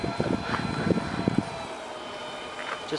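Radio-controlled Airbus A330 model airplane flying outdoors over grass, a thin distant engine whine with people cheering and calling out at the start, then the faint drone carrying on alone.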